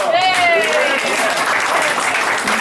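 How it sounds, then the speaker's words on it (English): Applause from a gathered audience at a birthday tribute celebration, a dense burst of clapping under cheering voices and whistles for under three seconds. "Round of applause."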